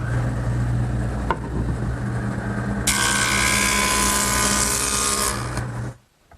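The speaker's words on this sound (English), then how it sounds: "the joiner will make it perfect" A jointer planes a ripped wood board for a Shaker washstand, its motor humming steadily before a loud, bright cutting roar for about three seconds, then the machine spins down near the end.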